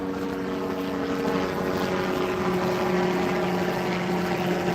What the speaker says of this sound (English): Sorry about that helicopter